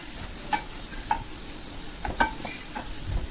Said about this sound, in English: We have added all the mushroom to the butter.